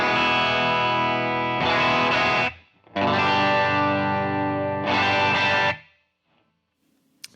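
An electric guitar with a clean tone runs through a JHS Morning Glory overdrive pedal with all knobs at noon, playing a few sustained chords in bursts separated by short gaps, fairly loud and alone before fading to near silence.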